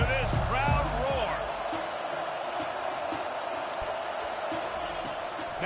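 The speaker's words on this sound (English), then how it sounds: "listen to this crowd roar" Stadium crowd roar in a college football video game, a broad continuous wash of noise with whistling tones and thumps early, under a steady commentator's voice.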